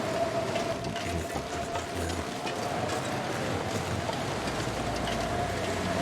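Steady roaring blizzard wind in the survival game The Long Dark, a constant broadband howl with a low rumble, loud and unbroken throughout with no talking.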